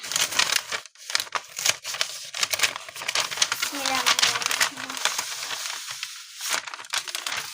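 A badly packaged cream package is torn open by hand, giving a run of close crinkling and ripping bursts with a voice faintly present in the background.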